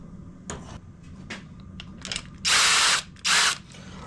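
A ratchet or power tool working on the pipe clamps of a Honda CRF motorbike: a few faint clicks, then two loud, close bursts of whirring drive, each lasting about half a second.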